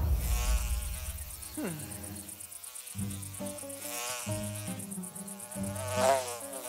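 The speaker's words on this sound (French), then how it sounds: "Le premier qui réussira à attraper cette mouche" A housefly buzzes continuously in the background, faint and steady beneath a cartoon scene with music and occasional sound effects.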